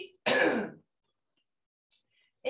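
A single sharp throat-clearing cough, loud and close, followed by quiet with a couple of faint brief noises.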